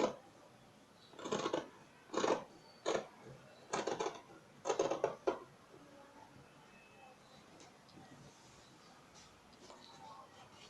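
Scissors snip through fabric along the shoulder line while a sewing pattern is being cut, giving about five short bursts of crisp cutting close by, followed by quiet room tone.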